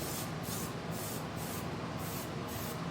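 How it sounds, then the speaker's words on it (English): A can of Rust-Oleum hammered silver spray paint hisses in steady, close bursts, a loud continuous spray with brief rhythmic dips. "I'm going to go ahead and spray this. I'm using Rust-Oleum hammered silver."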